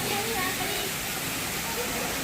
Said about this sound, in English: This is how this waterfall look like.